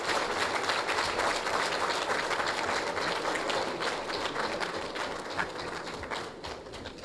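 A large audience at a government meeting gives loud, dense, continuous applause that holds steady, then eases slightly toward the end.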